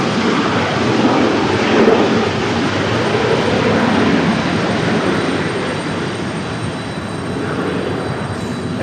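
A United Airlines airplane at Raleigh-Durham airport produces a loud, continuous jet roar that holds steady throughout, with no talk.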